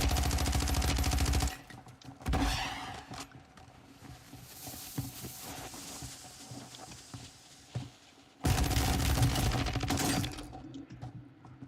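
Akimbo shotguns fire in a video game, dense rapid blasts in loud bursts at the start and near the end, with quieter scattered shots and clatter in between.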